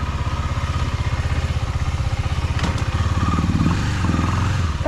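A KTM Duke 250 single-cylinder motorcycle engine idles close by after two months of sitting, a loud rhythmic thumping chug with a brief rev and a light mechanical clatter midway.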